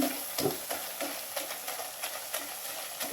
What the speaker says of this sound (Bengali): শাকটাকে এভাবে খুলতির মাধ্যমে একটু গুঁতে দিয়ে দিবেন